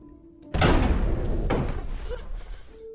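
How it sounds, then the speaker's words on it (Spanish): A closet door bursts open with a sudden loud slam in a monster movie scene, followed by a heavy rumbling thud and a lingering dramatic roar that fades out. "la puerta del armario se abre con fuerza"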